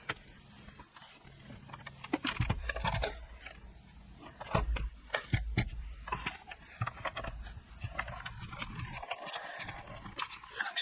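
A die-cutting machine cranked backwards and forwards over layered card with double-sided adhesive, giving irregular clicks, knocks and rumbling pressure bursts at close range, with no talk.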